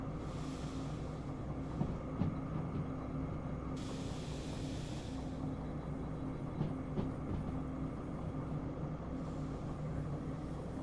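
Train rolling on rails in the railway sim Derail Valley, a steady low rumble with faint wheel clatter and brake hiss rising and falling, continuous and fairly close throughout.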